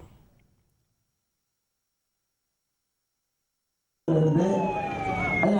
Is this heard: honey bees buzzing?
no